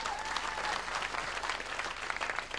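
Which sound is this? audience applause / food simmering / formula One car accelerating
audience applause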